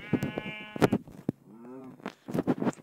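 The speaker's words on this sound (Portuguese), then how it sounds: "Ovelha, isso que eu quero." A sheep in a video game bleats once, a wavering baa in the middle, surrounded by short clicks and bursts of game sound before and after.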